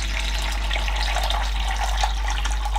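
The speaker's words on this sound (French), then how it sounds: "on vient mettre de l'eau jusque 1 litre" Water runs steadily into a container being filled up to the one-litre mark, a continuous close hiss and splash with no pauses and no talk.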